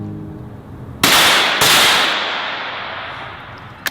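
A firearm fires at an outdoor kids firearm safety event, giving two loud close gunshots about half a second apart that ring out and decay slowly, followed by a faint click.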